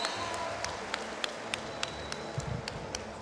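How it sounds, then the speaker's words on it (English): A Kazakh crowd applauds a boxer after a heavyweight boxing final, a sparse scatter of individual claps ringing out across a large arena, fairly faint and distant over a low background hum. "Takes the applause of the Kazakh crowd here."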